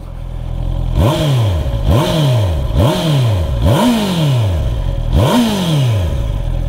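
A 2024 Honda CB650R motorcycle engine revs loudly, close up, in five sharp throttle blips that rise and fall over a steady idle.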